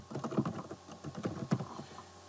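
Soft keyboard typing as a search term goes into Google, a quiet, close run of muffled irregular keystrokes in short bursts, with no talking.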